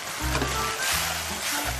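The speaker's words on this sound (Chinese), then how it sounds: "这就下锅" Food hits a hot wok in a home kitchen, a steady broadband sizzle rising quickly and holding loud and close for the whole moment, with no talk over it.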